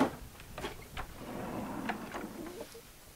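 A heavy shop storage drawer full of bulky carving samples sliding open or shut, a quiet rumbling slide with a few clunks and rattles, heard close with no talking.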